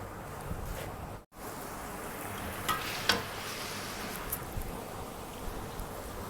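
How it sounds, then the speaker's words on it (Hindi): Chicken browning in ghee in a pot over a medium-low flame, a soft continuous sizzle with a few light clinks of stirring, fairly quiet and with no voices. "तो इसको हम भूनते हैं मीडियम लो फ्लेम पर"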